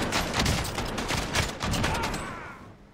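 Rapid shotgun fire from a Jak-12 in a video game, a dense run of loud, closely spaced blasts for most of the stretch, thinning out near the end.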